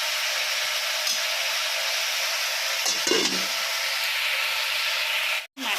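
Fish sizzles in hot oil on a home stove, a loud, even hiss that holds steady throughout. A few faint clatters come through partway, and the sound cuts out sharply near the end.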